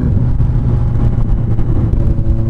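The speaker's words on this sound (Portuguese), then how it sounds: "o que eu acho gostoso dessa moto é esse barulho, galera, olha" Honda CB 1000R motorcycle engine idling loud and close with a dense low rumbling exhaust, steady and continuous with slight throttle fluctuations.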